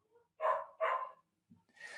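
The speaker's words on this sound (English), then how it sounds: "sorry about my dog." A dog barks twice in quick succession from close by, two loud, sharp barks followed by a brief faint sound and then some softer noise.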